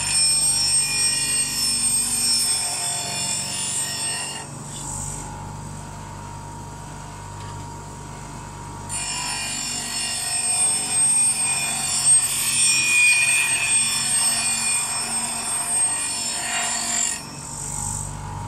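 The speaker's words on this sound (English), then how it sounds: "We're going to grind this round." Woodturning tool ground round on a bench grinder, a steady close abrasive hiss and rasp of steel on the wheel with brief pauses as the tool is repositioned, no talking.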